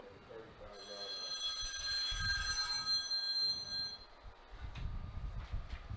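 A telephone rings with a bright, sustained electronic trill for a few seconds, fairly loud over faint background rumble from a high school football game broadcast.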